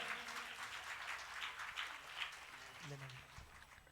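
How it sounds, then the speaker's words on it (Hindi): Audience at a live Shree Mad Bhagvat Katha in Agra claps to welcome a guest, a steady dense patter of hands throughout with some voices and faint music mixed in underneath. "एक बार जोरदार तालियां बजाकर अभिनंदन करें।"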